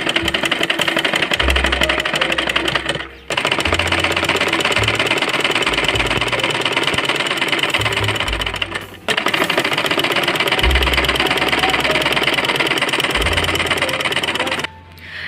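A loud, close sewing machine stitching fabric for a child's umbrella frock runs almost continuously with a dense rattling whir, stopping for brief pauses twice and again at the very end.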